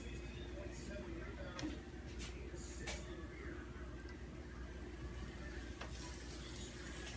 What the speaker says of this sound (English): you want to hear that sizzle because that means your pan is nice and hot